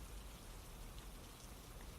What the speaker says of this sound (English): The rain pelted Teva's soft snout, drowning out the tears that fell from her blue eyes.